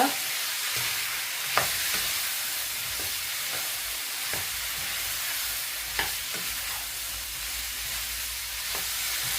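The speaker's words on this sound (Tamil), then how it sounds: "இந்த சிக்கனை இதில் போட்டுக்கொள்ளுவோம் போட்டுட்டு இதை நல்லா மிக்ஸ் பண்ணிக்கிறோங்க" Fried chicken for devilled chicken is stirred in a hot pan, a steady loud sizzle with periodic scraping strokes of the spoon against the pan, close up and without talk.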